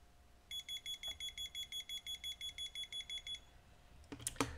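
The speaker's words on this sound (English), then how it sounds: "And you hear the beep when you see the light up." A massage bed remote control gives a rapid series of regular high-pitched beeps as its button is pressed, steady and evenly spaced for about three seconds, followed by a brief clatter of handling noise.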